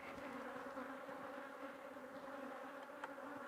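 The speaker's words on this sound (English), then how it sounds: "I'm going to take that over with all of the bees, put that into my nuke." A steady, dense hum of many honeybees buzzing close by as a hive frame of stores is carried a short distance into a nucleus hive, continuous throughout with no speech.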